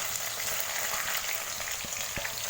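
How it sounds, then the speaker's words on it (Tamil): Chopped onions and green chilies frying in hot oil for mutton biryani, a dense continuous crackling sizzle with a few soft knocks, close and steady throughout. "இப்போ இது கூட நம்ம கட் பண்ணி வச்சுருக்கோம் வெங்காயத்தை சேர்த்துக்கலாம்."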